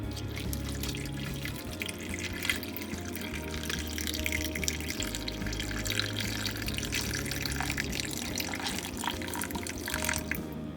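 Water pours steadily into a large protein drink container already holding peanut butter and crushed ice, a continuous close splashing flow with a low rumble, with no talking.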